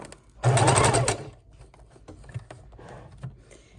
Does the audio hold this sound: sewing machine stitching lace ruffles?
yes